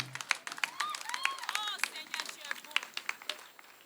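Scattered clapping from a congregation at a church thanksgiving and fellowship gathering, with sharp irregular claps mixed with cheerful shouts and voices, moderately close and uneven in rhythm.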